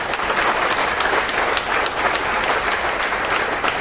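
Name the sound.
audience applause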